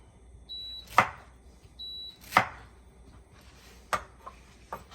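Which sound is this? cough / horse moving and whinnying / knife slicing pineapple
knife slicing pineapple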